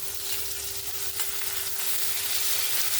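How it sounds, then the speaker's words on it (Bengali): A loud, constant hissing sizzle of prawns coated in turmeric and salt frying in a pan, close up and unbroken, with a faint low hum underneath. "এবার আমি যে চিংড়ি মাছটা হলুদ লবণ মাখিয়ে রেখেছি এটা দিয়ে দেব"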